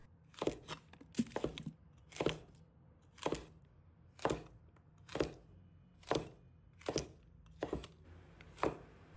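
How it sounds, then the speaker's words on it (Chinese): A knife chops fresh okra into thick slices about one centimetre wide on a board, about ten crisp, evenly spaced cuts that land with sharp clacks, close and clear, with no talking. "用刀将其切成厚片，每一片厚度大概在1厘米左右"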